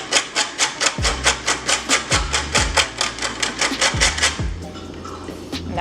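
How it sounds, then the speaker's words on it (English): Nutmeg is grated by hand on a metal grater in rhythmic rasping strokes, about twenty quick scrapes with a few thuds as the grater shifts, close and clear with no talking. "now I'm gonna grate the nutmeg"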